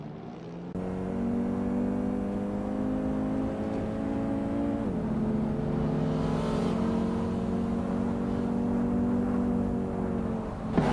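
Race cars, among them a 2015 Koenigsegg Regera, drone loudly in a racing video game at the Silverstone Retro Track, a steady engine tone that shifts pitch partway through as the cars accelerate.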